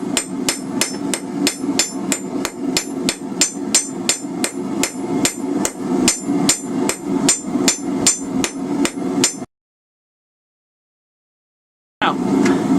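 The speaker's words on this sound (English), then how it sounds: "Flatten it out with your face of your hammer with the ball peen" Ball peen hammer flattening a pad on hot metal at the anvil, a steady run of sharp ringing strikes at a quick even rhythm, close and loud, pausing into silence before resuming briefly.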